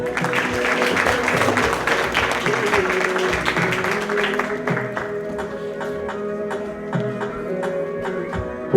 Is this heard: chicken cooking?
no